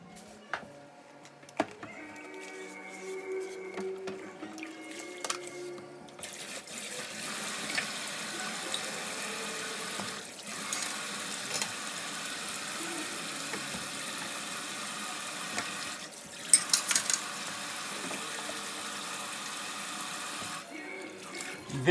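Tap water runs steadily into a kitchen sink during dishwashing, a continuous rushing wash with a few light clinks and knocks early on before the flow settles in.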